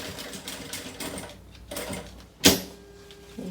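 A sewing machine stitching fabric for a beach bag runs in short bursts of fast, rattling mechanical whirring, pausing between runs, with a sharp clunk near the end; no one speaks.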